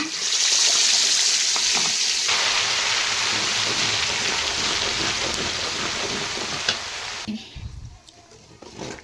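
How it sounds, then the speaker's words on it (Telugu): Ginger-garlic paste dropped into hot oil for chicken pickle, a loud, dense, rain-like sizzle that fills most of the clip before dying down sharply near the end, with a few faint clinks. "నేను ఇదే ఆయిల్ ఇప్పుడు వేడిగానే ఉంది, అల్లం వెల్లుల్లి పేస్ట్ వేస్తున్నాను"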